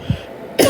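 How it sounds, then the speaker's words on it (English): A short throat-clearing sound followed by a single brief cough, close by, both quick and isolated. "I'm going to keep coughing."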